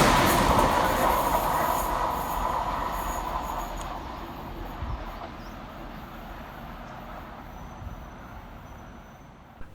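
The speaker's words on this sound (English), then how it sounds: "Flying fast through the station for Transpennine Express 6 minutes late is 802 205" A TransPennine Express Class 802 passes fast through Deighton station, loud and close at first with rumbling wheels and faint squeal, then fading away as it recedes.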